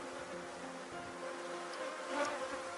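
A honeybee swarm hangs in the shade of a tree during a hive inspection, a dense, steady buzz of many bees with a single bee passing closer near the end, and no voices.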